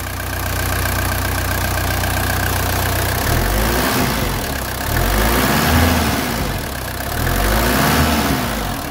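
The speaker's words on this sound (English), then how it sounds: "You can see how smooth the engine is." A 1982 Mercedes 240D four-cylinder diesel runs close by, idling smoothly with a steady low clatter, then revving up three times in rising and falling swells.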